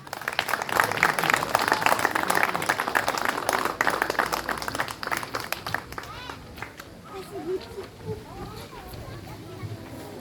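Audience applause at a koi show award ceremony in France, loud, dense clapping for the first six seconds under a presenter's voice, then fading to scattered claps and murmuring crowd chatter.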